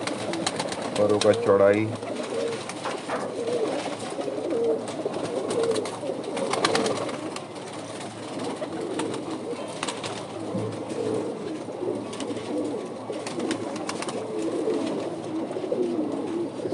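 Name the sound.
pigeons cooing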